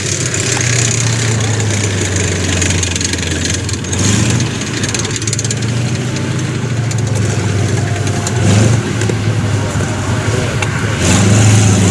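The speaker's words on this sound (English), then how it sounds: "M32 there going up on a deep hill." An M32 tank grinds up a steep hill at a military vehicle show, its heavy engine droning loudly and steadily with surges of revving, while people talk nearby.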